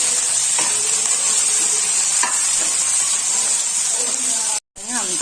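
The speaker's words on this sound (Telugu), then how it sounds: "ఇవన్నీ అల్లం వెల్లుల్లి పేస్ట్ లైట్గా వేగిన తర్వాత పచ్చిమిర్చి, టమాటా ముక్కలు, తర్వాత పుదీనా, మెంతాకు మొత్తం వేసేసుకొని పెట్టుకోవాలి" Ginger garlic paste with green chillies, tomato pieces, mint and fenugreek leaves sizzling steadily in a pan, a continuous loud frying hiss with occasional stirring scrapes and someone talking over it.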